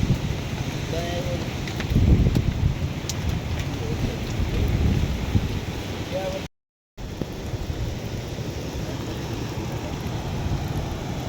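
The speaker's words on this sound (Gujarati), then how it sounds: "વરસાદ છે ફૂલે ફૂલ" Dense, steady rain pours down during a Ganesh visarjan, with a constant hiss briefly broken by a short gap, while voices murmur faintly underneath at the start.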